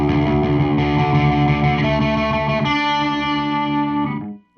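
Overdriven electric guitar through a Randall Diavlo RD1H 1-watt amp with heavy preamp gain, a sustained distorted chord shifting once midway and then cutting off abruptly, loud and alone.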